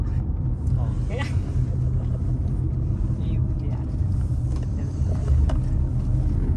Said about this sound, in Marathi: आता गाडी पळू लागली तर